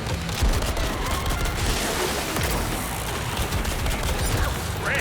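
Dense rapid gunfire in the video game Crimson Desert, continuous fusillade-like bursts and booms layered over a busy, noisy background for the whole stretch.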